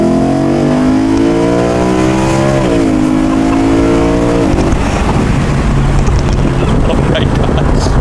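A 400-horsepower car engine is started and revs, a loud close whine rising in steps between gear-like shifts before settling into a rough, noisy rumble, with talk nearby.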